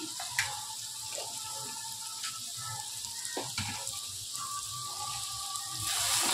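Chili, coriander and cumin powders frying in a pan, a close steady sizzle with scattered crackles and pops, building slightly louder toward the end, no voices.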